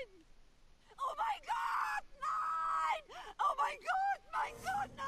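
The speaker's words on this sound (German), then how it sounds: "Oh, jetzt hör mal auf zu schreien" A character in the Mafia 3 video game screams and groans loudly in repeated strained bursts, close and intense, with short gaps between cries.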